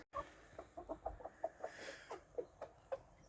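Short, repeated clucks from a hen, fairly close, coming in an uneven run of soft pulses with quiet farmyard ambience behind.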